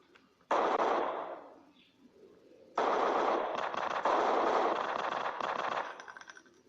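Automatic gunfire in a shooting video game comes in two long, rapid bursts with a brief pause between, loud and close.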